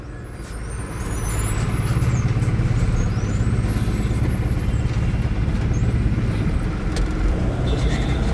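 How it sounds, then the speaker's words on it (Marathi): Dense, steady roar of idling and creeping vehicles in a road traffic jam caused by roadworks, with engine rumble and occasional faint hisses, continuous throughout. "फुल ट्रॅफिक जाम आहे मित्रांनो बघा"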